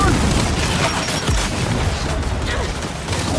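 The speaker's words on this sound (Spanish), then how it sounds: "¡Sale granada de fragmentación!" A fragmentation grenade blows up in the Gears of War 5 campaign on Insane difficulty, a booming blast amid continuous gunfire and battle noise, with combat chatter from characters layered over the loud, dense mix.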